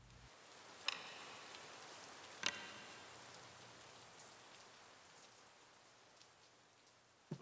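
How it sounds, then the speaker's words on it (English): Rain falls steadily in a film scene, a soft, even hiss of drops on surfaces with a few faint ticks standing out, heard alone with no voices. "the background sound is mainly from the natural noise of the rain"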